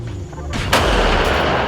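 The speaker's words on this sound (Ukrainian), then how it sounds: "До речі, другий постріл" A Czech DITA self-propelled howitzer fires a sharp, powerful cannon shot that booms out, followed by a sustained rolling rumble.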